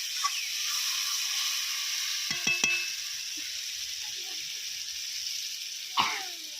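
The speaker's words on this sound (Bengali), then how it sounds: "এরপর আমি ভেজে রাখা আলু এবং ডিম কড়াই দিয়ে দেবো" Fried potatoes and eggs hiss gently in a kadai of softened tomatoes, a steady low sizzle with a few metallic clinks of the stirring spoon midway and one more near the end, no talking.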